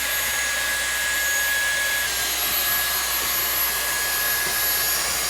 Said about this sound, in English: we're going to go ahead and vacuum this out to prolong the life of your refrigerator. Dyson to the rescue.